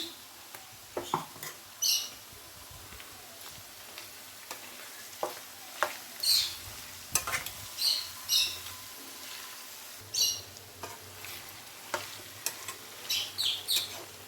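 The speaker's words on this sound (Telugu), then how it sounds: "పచ్చి వాసన పోయేదాకా వేయించాలి." Ginger garlic paste frying in a pan, one and a half spoons, while making chicken gongura pickle: a quiet continuous sizzle broken by repeated scraping stirs, alone with no talk.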